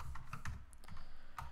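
Computer keyboard typing while coding a jQuery button click function for an Ethereum decentralized app, a handful of quick, close keystrokes in an irregular rhythm with no talking.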